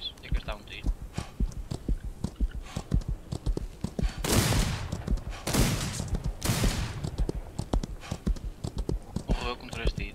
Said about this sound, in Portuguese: Já não tenho flechas, tenho que gastar um tiro.